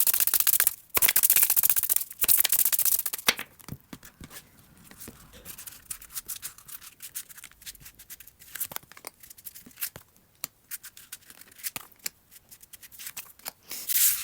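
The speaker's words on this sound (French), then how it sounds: "Je vais mélanger les cartes, les étaler" Tarot cards are shuffled hard, then spread out, with dense loud riffling bursts at first giving way to quieter scattered flicks and slides of cards on a surface, close up, with no voice.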